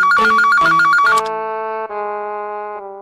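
An outgoing phone call rings on the line: a bright, repeating electronic ring pattern, followed by sustained steady tones that hold and shift slightly, heard clearly and alone.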